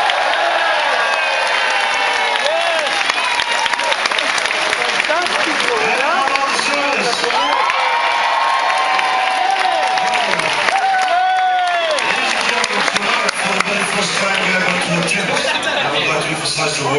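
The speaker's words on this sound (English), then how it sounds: "It's my opportunity for you to let us know by magic of applause." Diners in the main restaurant of the Royal Caribbean cruise ship Voyager of the Seas applaud and cheer during an Italian evening, with steady loud clapping, whoops and voices that go on without a break.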